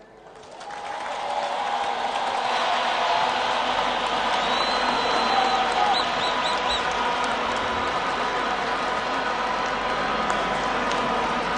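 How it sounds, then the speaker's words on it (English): Sustained applause from a large crowd after Zimbabwean President Mnangagwa's 2017 inauguration speech, steady and dense throughout after a quick swell at the start, with faint cheering mixed in. "A big round of applause for the address by the President."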